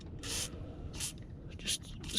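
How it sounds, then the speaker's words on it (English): Short bursts of WD-40 aerosol spray into the gummed-up seat belt buckle mechanism of a 2007 VW Beetle, about four hissy puffs spaced across the moment, fairly close and moderately loud. "Just spray a bit"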